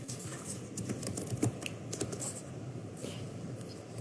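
Typing on a computer keyboard gives quiet, rapid clicks and taps in an irregular stream, fairly faint and close, with no speech.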